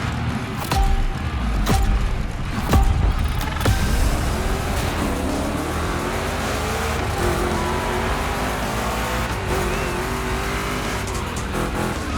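Chevy big block race cars roar in The Crew Motorfest, loud engine revs rising and falling with sharp shift bursts early, then a sustained close drone with tyre squeal and skidding through rough turns.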